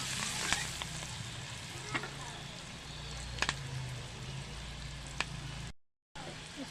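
Onions fry in a pan with turmeric and salt, giving a close, continuous sizzle broken by sharp crackles and pops, with a short dropout near the end.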